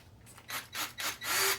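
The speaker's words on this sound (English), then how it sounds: "I got a Ryobi drill that I'm going to use as my starter." A Ryobi cordless drill spins to crank-start a Honda EB1400X generator, giving four short whirring bursts that grow longer, the last one sustained, close and fairly quiet.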